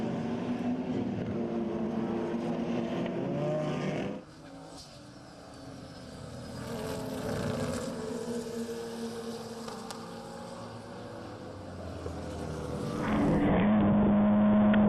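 BMW race cars at the start of a race, a steady dense roar of many engines that dips briefly before building again into loud, sustained revving near the end.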